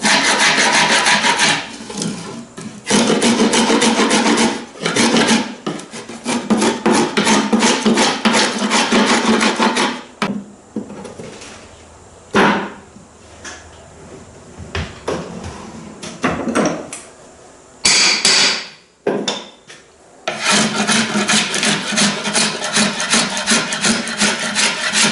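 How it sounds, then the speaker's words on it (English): Old glued cane being scraped and rubbed off a wooden canoe seat frame, with loud sustained rasping strokes in long bursts and a few brief pauses of quieter knocking. "I need to get in there and clean all of that excess out of there and get all of the cane that seems to be glued actually down to the frame itself off"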